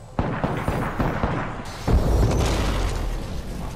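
Frag grenade blast in an Apex Legends-style shooter: a short pop and then, about two seconds in, a loud low boom that rumbles on under game noise and scattered clicks.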